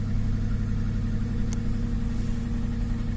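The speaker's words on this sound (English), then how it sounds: "So we're going to record a starting event here." A cold 2009 Pontiac Torrent engine runs steadily just after starting, a constant mid-pitched hum with a low throb, close and even throughout with no talking.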